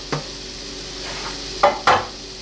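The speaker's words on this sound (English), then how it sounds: "We let the onions cook over high heat until they get browned." Onions cooking over high heat in a beef stew pot, a soft constant sizzle broken by a few sharp scraping stirs of a utensil, close and alone.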